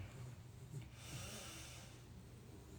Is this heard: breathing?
yes